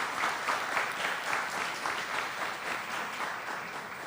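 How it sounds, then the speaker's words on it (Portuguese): Audience applause at an ecumenical church service opening a senior citizens' week, a continuous even wash of many hands clapping, moderately distant, without talk. "nós temos aqui o reverendíssimo Padre Gaio, para quem eu peço uma salva de palmas."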